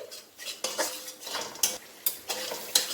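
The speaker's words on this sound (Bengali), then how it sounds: "মশলাটা একটু কষে নেব।" Masala for mushroom curry is stir-fried over a low flame, a metal spoon scraping and knocking against the pan in repeated sharp strokes over a faint sizzle.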